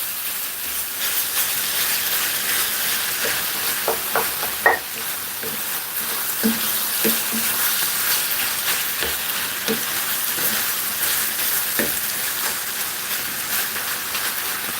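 Pasta sauce sizzling and hissing steadily in a pan, with scattered soft clinks and scrapes of a whisk stirring through it, moderately close and without speech.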